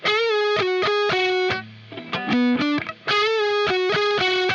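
Distorted electric guitar solo phrase from Incubus's "Rogues", repeated sustained high notes with a lower run of rising bent notes in the middle, loud and alone.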